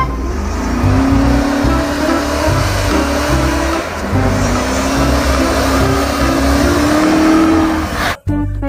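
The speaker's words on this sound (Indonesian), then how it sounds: "Yang ini ada mobil Jeep Hummer" A toy Jeep Hummer plays a loud electronic engine effect with continuous revving and a droning hum, then cuts off abruptly near the end.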